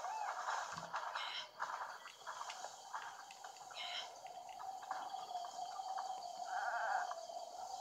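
A goat bleats several times in Zelda: Breath of the Wild. The cries are moderately loud and carry over a steady windy ambience, with no talk.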